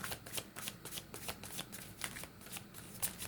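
Tarot cards are shuffled close up, a quick rhythmic run of papery riffles and flutters repeating for a few seconds in a quiet room.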